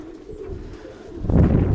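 Pigeons taking off on a windy day, a short burst of flapping wings and soft cooing that grows louder toward the end, with steady wind noise underneath.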